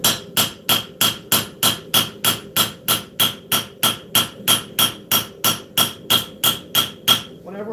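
A hammer planishes hot steel at low forging heat, landing about twenty evenly spaced, ringing metallic blows in a brisk steady rhythm, loud and close, with no voices.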